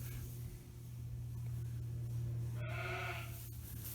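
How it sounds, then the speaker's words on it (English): In a pen of pregnant ewes waiting to lamb, one sheep gives a single brief bleat over a low steady engine-like hum and background rumble. "A load of sheep in here, that. Load of ewes. Waiting to lamb."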